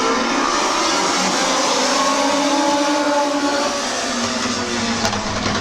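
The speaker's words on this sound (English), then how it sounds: "Green flag racing coming off of 4." Stock cars race at Midvale Speedway after the green flag, a dense continuous engine roar from the pack holding steady over several seconds, loud and near.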